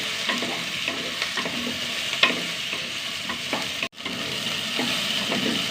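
Okra and onion stir-fried in a pan give a steady close sizzle, with repeated scraping stirs and a sharp clatter partway through; no one speaks.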